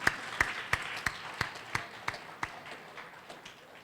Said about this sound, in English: I will clap for that.